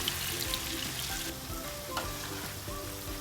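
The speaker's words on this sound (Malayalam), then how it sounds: "രണ്ട് സൈഡും നല്ലപോലെ ഗോൾഡൻ കളർ വരുന്ന പാകത്തിന് കുക്ക് ചെയ്തെടുക്കാം" Shrimp fry in a pan, giving a dense, loud, close sizzle that stays steady the whole time, with no talking.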